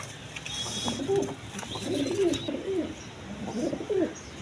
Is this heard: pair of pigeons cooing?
yes